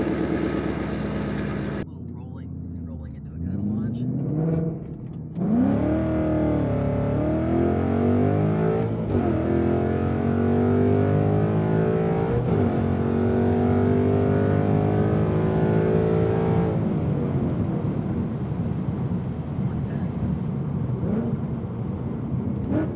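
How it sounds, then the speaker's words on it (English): A 2016 Ford Mustang GT V8 fires up for the first time after an exhaust repair with a welded pipe and new O2 sensor, then revs repeatedly, rising and falling loudly and up close before settling into idle. "Got the exhaust pipe welded in there, got the O2 sensor in, and we're about to give her a first fire up."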